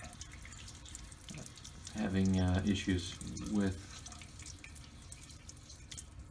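Water gushes from household plumbing taps and drains away, a steady rushing flow that swells louder for a couple of seconds in the middle while someone talks over it.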